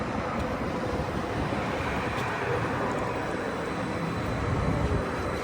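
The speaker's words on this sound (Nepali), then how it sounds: "ट्रेन आइपुग्यो।" A train pulls into Somerset Bridlewood station in Canada, heard as a loud, steady, low rumbling roar with wind-like noise that runs throughout.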